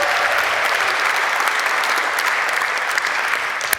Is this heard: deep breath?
no